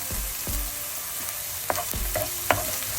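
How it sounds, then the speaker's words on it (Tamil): Chopped onions and green chillies sauté in a pan for a beetroot stir-fry, a close steady sizzle broken by a few sharp spoon scrapes and knocks. "கொஞ்ச நேரம் இந்த வெங்காயம் வதங்கி வரட்டும்"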